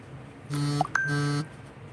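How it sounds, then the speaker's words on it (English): A short electronic notification chime from a Discord alert sounds close and clear: two sustained buzzy tones separated by a brief gap, with small blips between them, in an otherwise quiet room. "There you go, that was notification."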